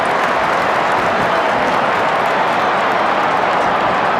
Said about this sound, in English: Monstrous crowd here at the MCG